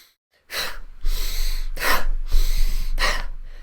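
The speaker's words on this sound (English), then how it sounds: "an energetic breath work would be inhale" Forceful, energetic breath work: a series of loud, sharp, rushing inhales and exhales in quick succession, close to the listener and alone without talk.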